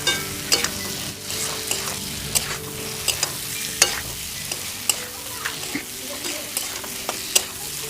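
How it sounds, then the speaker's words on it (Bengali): Fried potatoes stirred through a thick spice masala in a pan, steady sizzling broken by sharp, regular scrapes and knocks of the spatula against the metal, close and fairly loud with no talking. "ভেজে রাখা আলুগুলোকে এই কষানো মশলার মধ্যে দিয়ে আর একটু কষিয়ে নেব।"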